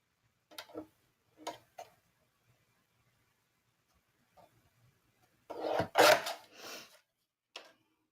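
Paper craft piece being trimmed, a few short crisp snips and rasping cuts spaced apart, then a louder burst of rustling and cutting near the end, close and alone with no talk.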